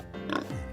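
A single short pig oink with a nasal, grunting snort, close and clear with nothing around it.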